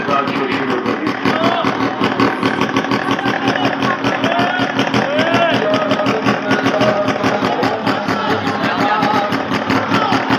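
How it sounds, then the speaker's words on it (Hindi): A motorcycle engine runs continuously with a rapid, even pulsing idle throughout, heard up close while a voice talks over it. "मोटरसाइकिल स्टार्ट ही चुके"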